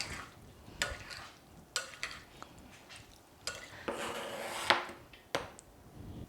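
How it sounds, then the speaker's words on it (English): Chilled pasta tossed in dressing in a bowl: quiet, irregular clatters, scrapes and soft knocks of utensils against the bowl, close up and faint. "I'm going to go ahead and just toss this in the dressing here"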